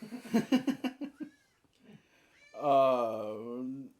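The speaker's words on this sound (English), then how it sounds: "Oh, look, a tibby. Ew, kitty. Kitty cat." A cat lets out a drawn-out, wavering meow close by, following a stretch of human talk and laughter.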